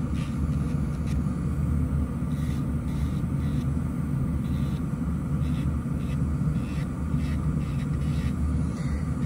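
An electric nail file drill runs at 8,000 RPM during a manicure, making a continuous, even, rumbling drone that holds steady and fairly loud throughout with no pauses.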